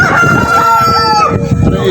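A rooster crows loudly and close, one long rising-and-falling call among a flock of chickens, with clucking and faint background voices underneath.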